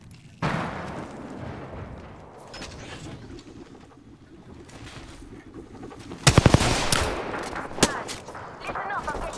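Bursts of gunfire during an Apex Legends match: sharp, loud volleys cluster near the end, with quieter shots and movement noise earlier and a player's voice talking over parts of it.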